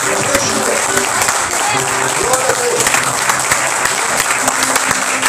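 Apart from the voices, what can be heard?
loud audience applause in church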